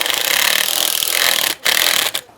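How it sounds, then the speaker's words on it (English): Two-inch screws driven by a power driver into mortar between bricks, a loud continuous grinding whir that stops briefly twice near the end, with no talking. "just send in a couple of 2-inch screws here"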